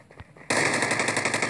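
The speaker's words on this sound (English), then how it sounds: "I can hear firing." Sustained automatic gunfire from the Rules of Survival mobile game bursts in loud and rapid after a brief quiet moment, continuing without a break to the end.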